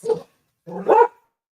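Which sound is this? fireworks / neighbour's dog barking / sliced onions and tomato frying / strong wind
neighbour's dog barking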